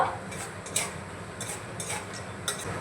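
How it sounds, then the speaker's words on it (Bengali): Peanuts are stirred in hot oil in a pan, with light clinks and taps from the spoon scattered irregularly over a faint sizzle. "চিনে বাদামটা আমি দিয়ে দিচ্ছি একটু নাড়িয়ে নেব"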